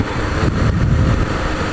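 Steady, loud motorcycle engine drone with heavy wind rush while riding at night, continuous and close with no speech.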